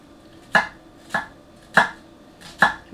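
A gyuto kitchen knife makes vertical slices through a peeled onion, giving four crisp, evenly spaced chopping knocks against a board, close and fairly clear, with no talk.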